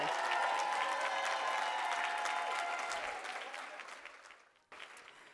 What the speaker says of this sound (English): So I just wanted you all to give a round of applause for who's joining us virtually